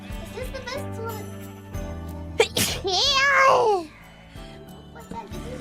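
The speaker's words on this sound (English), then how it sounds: "Did you just come back to sneeze?" A single sharp sneeze from a VTuber bursts out mid-stream, close and loud, followed by a brief squeaky vocal trill; quiet background chatter and light tones sit around it.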